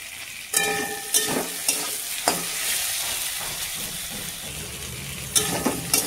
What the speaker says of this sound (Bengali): আলুর সাথে টমেটোর সাথে ভালো করে ভাজা হয়ে গেছে।